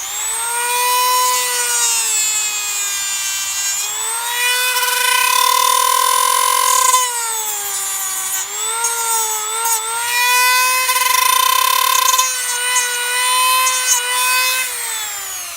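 A rotary tool whines steadily while cutting the plastic of a Doc Ock action figure. The loud, close, high-pitched tone rises and dips in pitch as the bit bites into the plastic, with no talking.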